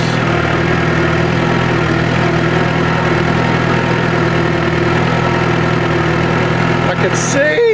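A tractor engine runs steadily while being driven around a yard, a loud, continuous low hum with constant drone and little change in pitch, ending with a brief higher clatter near the end.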